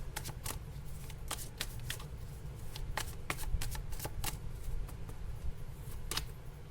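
Tarot cards are shuffled by hand in a quiet room, with a run of quick papery riffles and soft taps, close and gentle.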